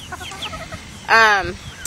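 A few soft clucks from chickens, then one louder, drawn-out squawk near the end, heard close by with no talking.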